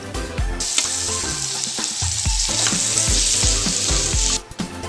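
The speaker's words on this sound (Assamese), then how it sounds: "ইয়াত মই মাংসখিনি দি পেলাই 5 মিনিট সময় মাংসখিনি মই ভাজি ল'ম" Pieces of local chicken hit hot oil and spice paste in a pan and set off a loud, steady sizzle. Heavy spatula thumps and scrapes recur close by throughout, then the sizzle drops away at the end.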